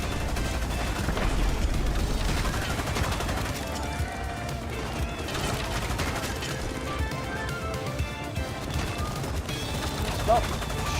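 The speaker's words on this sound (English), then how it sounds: "Stop shooting the damn scientists." Rapid video game gunfire rattles continuously as scientists are shot, dense overlapping bursts of automatic fire with booms and game sound throughout.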